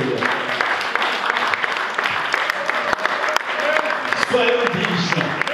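Church congregation applauding, loud and sustained, a dense wash of clapping that fills the room, with voices cheering and shouting under it.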